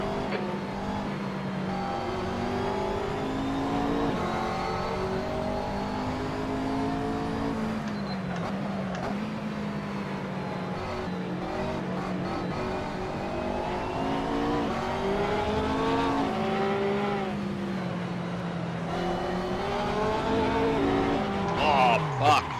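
A race car accelerating on track, its engine note climbing and dropping through repeated gear changes with tonal whine, steady and close throughout, with a voice talking over it.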